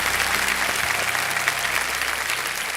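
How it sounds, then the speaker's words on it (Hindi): Studio audience applause on the Kaun Banega Crorepati Season 14 game show: a dense, steady wash of many hands clapping together, loud and sustained throughout with no pause. "जोरदार तालियां बच जाए एक बार।"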